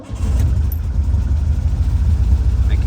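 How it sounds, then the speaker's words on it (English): The engine of a 1957 Porsche Speedster replica runs at a steady, loud, low idle, a rumbling throb close by that starts up at the beginning and holds evenly. "it always seems to start up good. The engine shows to be healthy."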